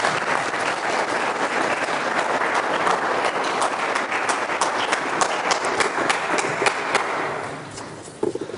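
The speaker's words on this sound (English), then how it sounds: "Good clapping up there." An audience at a chemical engineering centennial seminar claps loudly and continuously, a dense wash of hand claps that holds steady for several seconds before tapering off at the end.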